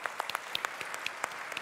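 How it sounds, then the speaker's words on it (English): A brief burst of audience applause for panelists at a tourism summit, a dense patter of individual claps close by, lasting under two seconds. "Let's hear a big applause for our panelists"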